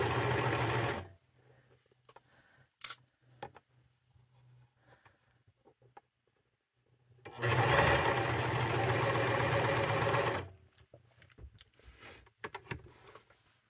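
A sewing machine stitches a headband seam, running briefly at the start, then stopping, then running steadily for about three seconds, close and even, with small handling clicks in the quiet gaps.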